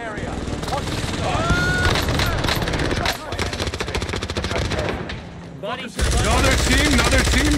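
Heavy gunfire in Warzone on Rebirth Island: continuous rapid automatic bursts and shots crackle loudly and close, briefly easing before a fresh volley, while players talk over the shooting.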